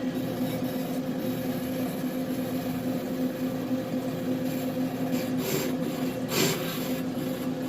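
A brake lathe turns a Silverado brake rotor, giving a steady faint grinding rasp with a constant mechanical whine underneath, continuous and unchanging throughout.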